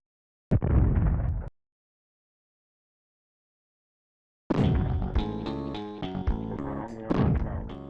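Two booming bazooka blasts fired at a bush in the video game Zombies Ate My Neighbors, a short deep explosion followed after a pause by a longer rumbling burst with rattling game effects, loud and close.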